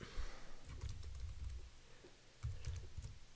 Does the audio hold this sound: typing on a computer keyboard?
yes